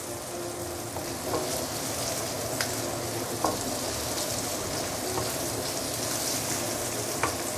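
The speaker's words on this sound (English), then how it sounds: "This is the time where you can put in the roast pork and stir fry everything together." Roast pork stir-fried with garlic in a hot pan gives a dense, continuous sizzle with occasional light spatters and utensil scrapes, close and even throughout without speech.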